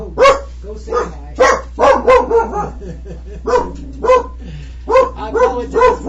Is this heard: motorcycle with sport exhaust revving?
no